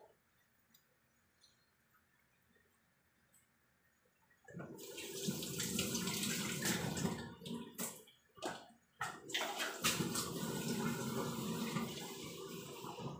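Water pours from a tap into a pot of chicken, a sudden loud gushing splash after a quiet start, with brief interruptions and shifts in the flow as it fills.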